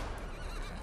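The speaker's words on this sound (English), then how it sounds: "Ooh, a horse." A horse neighs in Red Dead Redemption: Undead Nightmare, a brief, close, loud whinny with no voices.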